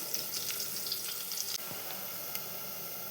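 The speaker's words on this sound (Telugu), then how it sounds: "ఇప్పుడు ఆనియన్స్ ఫ్రై అవుతున్నాయి కదండి, చూడండి మంచిగా ఫ్రై అవుతున్నాయి." Onions sizzling in a pan for a village-style chicken curry with green masala, a steady soft frying hiss with faint crackles throughout, no voices.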